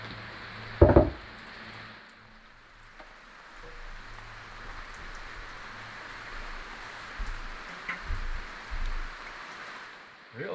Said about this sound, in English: Real rainy day today.